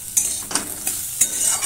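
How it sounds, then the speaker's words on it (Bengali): A fish head is stirred with ground spices in a pan for kanta chorchori, with four sharp spoon scrapes against the metal at a slow, uneven rhythm over a soft sizzle, close and clear with no talking. "আমি ভালো করে মিশিয়ে নিচ্ছি।"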